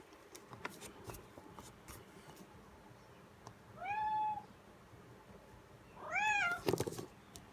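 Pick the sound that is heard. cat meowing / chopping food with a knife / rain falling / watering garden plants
cat meowing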